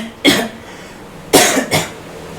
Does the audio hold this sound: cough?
yes